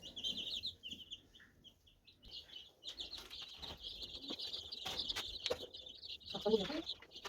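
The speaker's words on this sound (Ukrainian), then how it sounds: "Оці курчатка, що я тільки вчора ловила, перекидаю в оцю клеточку." Chicks moved into a small cage give high, repeated peeping in short bursts. Soft rustling, thumps and handling noises come and go beneath the calls, all fairly quiet and close.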